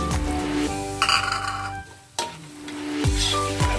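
Garlic and onion sauté in a pan for pansit bihon with upo, with steady sizzling that surges loudly as the onion drops in. Stirring and scraping sounds come through close up.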